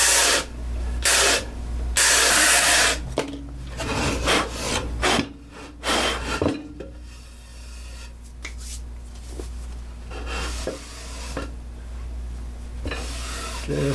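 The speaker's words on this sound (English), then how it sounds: "So I'm just sanding enough so I don't see any more" A wooden board is sanded smooth after jointing, giving bursts of loud, rough scraping strokes that come in irregular passes and then ease into quieter rubbing.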